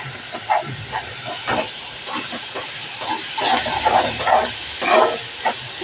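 Tomato spice paste hits hot oil and sizzles in bursts of hissing crackle, moderately loud and near, swelling and fading in uneven pulses.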